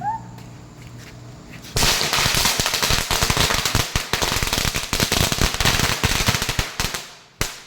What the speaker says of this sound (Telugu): ఇవన్నీ ఇప్పుడు మేము టపాకాయలు కాలుస్తున్నాము